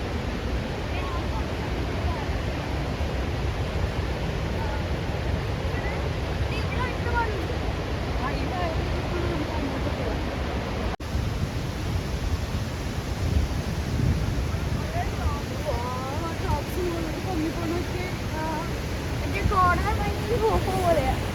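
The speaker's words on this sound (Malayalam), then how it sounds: "ഇപ്പം നമ്മൾ ഈ കാണുന്നത് ഈ വെള്ളം ഇങ്ങനെ ഒഴുകി വന്നിട്ട് ആ വാട്ടർഫോൾ തുടങ്ങുന്നില്ലേ" Rhine Falls in Switzerland, a large waterfall, gives a steady broadband roar of rushing water throughout, with wind buffeting the microphone and faint voices underneath.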